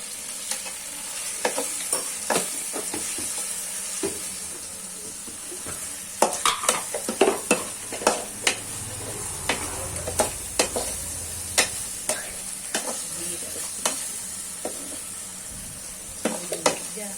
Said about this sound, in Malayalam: നമ്മളിത് ഇളക്കിക്കൊണ്ടിരിക്കുകയാണ് മുളകും പൊടിയിലാണ്